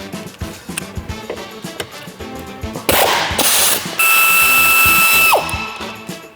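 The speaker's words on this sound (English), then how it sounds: "take your T45 and remove this upper Torx bit here" A T45 Torx bit backs out an upper bolt on a saddlebag guard mount of a 2022–2024 Harley-Davidson Low Rider ST: loud, close mechanical rattling and whirring in bursts, ending in a sustained high whine that trails off.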